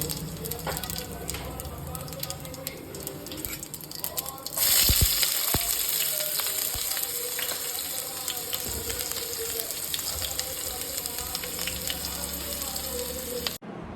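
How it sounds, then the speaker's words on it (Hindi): Tempering spices hit hot oil with a sudden loud sizzle that keeps crackling and spitting steadily, close by, after a stretch of quieter kitchen clatter. "अब मैं लगा देती हूँ तड़का।"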